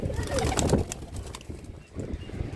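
Low, soft cooing of a caught pigeon close by, repeating in a murmuring rhythm with some rustling and a brief pause near the end.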